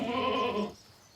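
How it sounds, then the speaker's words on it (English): One drawn-out bleat from a goat frustrated at being isolated from other goats, loud and nearby, trailing off into quiet near the end. "it's the sound of a goat that is frustrated at being isolated from other goats."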